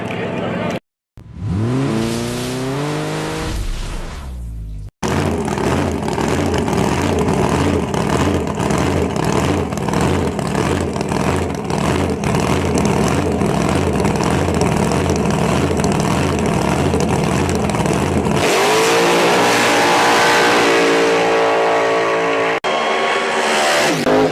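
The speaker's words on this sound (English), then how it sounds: "All right, front engine dragsters coming around." Front-engine dragsters race at Grand Bend Motorplex. A brief rising engine rev cuts off, then a long, loud, sustained roar of racing engines follows, with another revving surge near the end. The sound is close and overpowering.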